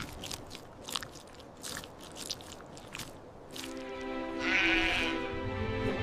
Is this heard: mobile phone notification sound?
no